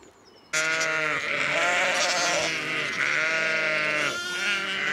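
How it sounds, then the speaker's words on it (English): Sheep and young lambs bleat loudly and close by on a Norfolk farm trail, several overlapping calls following one another with no gaps. "Tea time for the sheep. Loads of these little lambs."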